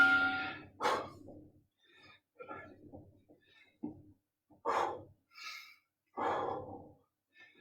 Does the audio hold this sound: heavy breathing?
yes